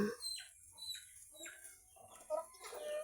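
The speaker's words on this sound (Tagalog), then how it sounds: "Tapos ito yung mga manok niya." Chickens clucking intermittently in short bursts at moderate distance, with quiet outdoor background between calls.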